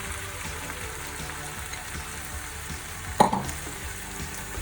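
Vegetarian sausages fry in a pan with chili powder, a soft, continuous sizzle with light stirring scrapes and one brief clatter of a utensil partway through, close and fairly quiet, no voices.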